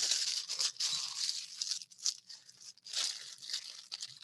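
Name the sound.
plastic bags being handled and brought together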